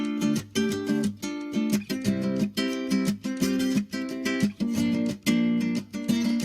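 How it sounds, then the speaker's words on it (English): A nylon-string classical guitar strums a sequence of chords in a steady rhythm, each chord ringing briefly before the next, played alone. "my entire chord progression, as I recorded on a Spanish classical guitar, sounds like this"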